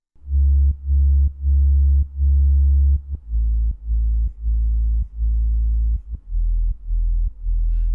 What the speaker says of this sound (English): It got a lot louder and it got a lot more present when I turned that saturator on